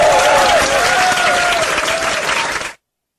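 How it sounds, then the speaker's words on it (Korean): Soldiers applaud in a loud, dense round of clapping close by. A brief vocal tone rises over it before the clapping cuts off abruptly after under three seconds. "박수 한번 치주세요."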